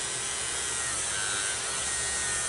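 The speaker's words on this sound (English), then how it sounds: "So I'm drilling another hole." A small rotary drill bores slowly into the plastic of a resin Y-Wing model kit, a steady close-up whine with grinding texture, continuous and unbroken, with no one talking.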